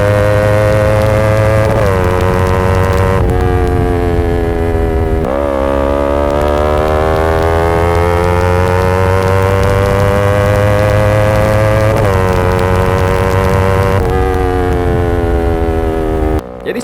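A modified Kawasaki Ninja ZX-25R 250cc four-cylinder motorcycle with an aftermarket exhaust, its engine held at a loud, high, steady whine that swells and dips in several rev sweeps for the whole stretch, with no talking.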